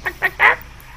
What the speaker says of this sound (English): Chickens? Yeah, sounds like poultry.